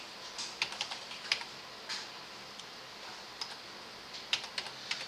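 Typing on a computer keyboard: light, close key clicks in small irregular bursts separated by short pauses, quiet and without talk.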